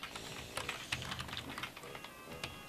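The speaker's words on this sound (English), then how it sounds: "I'm typing in the chat" Rapid typing on a computer keyboard, a quiet, dense patter of light key clicks with no pauses and no voices.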